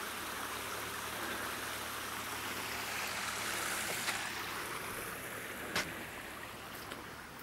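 Water rushing steadily out of Saddington Reservoir down an outflow channel, a continuous broadband roar heard close by, with a few faint knocks and brief sounds over it.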